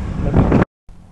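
Low, rumbling wind buffets the microphone on a Bajaj Dominar 400 motorcycle ride in Tagaytay, cuts out abruptly for a moment, then returns more softly.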